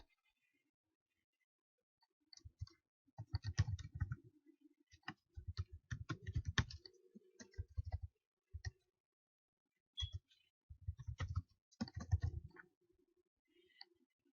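Typing on a computer keyboard, entering a short line of text into a text box: bursts of quick, light key clicks in uneven clusters with brief pauses between, close and fairly quiet, no talking.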